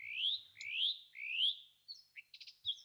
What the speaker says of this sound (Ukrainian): Я ластівка, невеликий гарний птах.